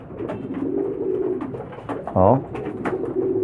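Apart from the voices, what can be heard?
homing pigeon cooing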